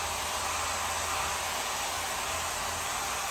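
A hair dryer with a diffuser blows during a men's curly haircut styling session, a steady close broadband whoosh with a low motor hum, continuous and unbroken throughout.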